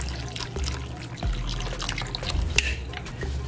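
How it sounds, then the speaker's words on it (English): Hot water poured into a bowl in a home kitchen, a faint liquid splashing and trickling under low background noise with a few small knocks. "we're going to add some hot water into this bowl."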